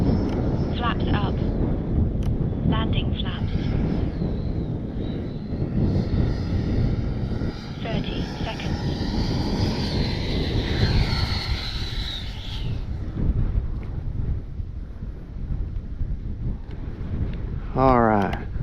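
Small FMS 80mm F-86 Sabre electric ducted-fan RC jet flying before landing in wind, a steady whining rush with shifting pitch, heavy wind buffeting on the microphone throughout, and a person talking over it.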